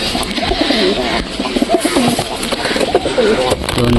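Pigeons coo and call in a loft where birds are being paired after moulting, soft repeated throaty coos running through steady background noise, with some faint voice-like sounds mixed in.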